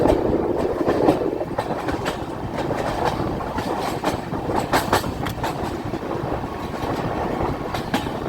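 An Indian passenger train hauled by a WDP-4D diesel locomotive rolls past, with a steady rumble and a continuous rhythmic clickety-clack of wheels over rail joints, heard close and loud without voices.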